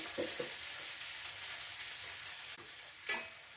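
Beef olathiyathu fries with masala while being stirred: soft close sizzling, a few spoon scrapes and a sharp clack near the end, no talking.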